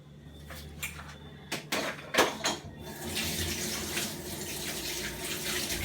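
Hands washed under a running kitchen tap, a few sharp splashes and knocks at first, then a steady close stream of water flowing over the hands.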